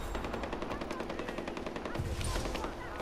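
Rapid automatic gunfire from a weapon in the video game Far Cry 4, a dense continuous burst of shots for about two seconds followed by heavier, lower blasts near the end.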